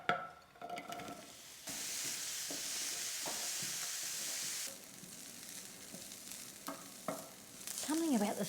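Diced onions browning and sizzling in a hot pan for a Goan-style curry, with steady frying hiss broken by several scraping stirs and a clatter of utensil against the pan; no talking.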